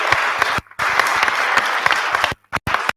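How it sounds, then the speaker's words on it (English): Audience applause for panelists at a trade-trends conversation event, steady loud clapping from a crowd with brief pauses and a few final scattered bursts near the end. "please help me give a warm round of applause to our panelists"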